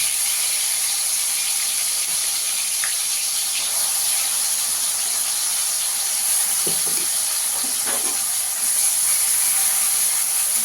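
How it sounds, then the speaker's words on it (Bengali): A paste of onion, garlic, ginger and green chili sizzles in hot oil in a pan, making a loud, steady, close hiss that runs through the whole stretch with a few faint clinks. "এবার এই তেলের মধ্যে আমি দিয়ে দেবো পেঁয়াজ, রসুন আর আদা, কাঁচা লঙ্কা বাটা দিয়ে দেবো 2 চামচ।"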